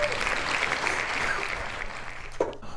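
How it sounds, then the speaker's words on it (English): Applause fills the clip as a continuous wash of clapping, steady and moderately loud for nearly three seconds before tapering at the end. "A1 makes a little applause sound"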